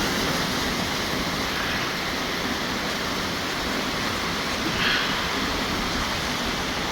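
A small waterfall rushes in a steady, broadband hiss close by, constant throughout with no voices.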